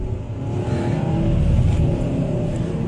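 A car accelerating hard on a mountain highway, its engine rising in a loud steady roar close by, with road and wind noise and no talk.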